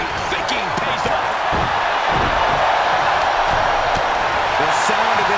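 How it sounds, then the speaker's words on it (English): A wrestling arena crowd in WWE 2K22 roars continuously, a loud, dense wall of noise with scattered thuds and shouts underneath. "The sound of this crowd is deafening"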